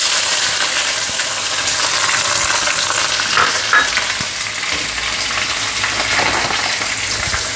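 Onions sizzle loudly in hot oil with mustard seeds and curry leaves, a dense, steady hiss with occasional crackles and stirring scrapes, close up and without talk.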